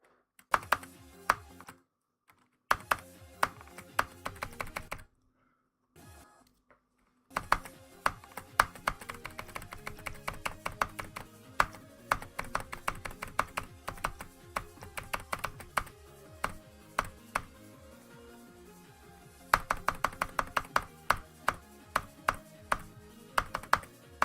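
Computer keyboard keys clatter in rapid, dense bursts while someone plays a video game, the tapping stopping briefly a few times before resuming steadily.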